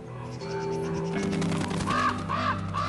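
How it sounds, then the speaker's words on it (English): Raven feeding on a bison carcass gives several loud, hoarse croaking caws in a burst near the end, over a steady rushing outdoor background. "The raven specializes in feasting on the dead."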